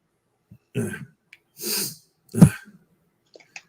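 Three short bursts of breathy sound, the last a sharp, forceful sneeze up close, separated by brief silences.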